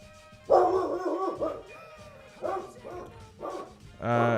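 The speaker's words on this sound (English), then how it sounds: "Someone is knocking on my door, and my dog is losing his mind, or her mind rather." A dog barks and yips in several loud bursts close by, reacting to someone knocking at the door, with a whining, excited edge between barks.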